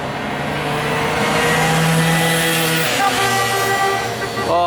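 Genuine Buddy 50 and 70cc kit scooters race off, the small engines revving loudly and climbing in pitch close by, with a voice talking over them.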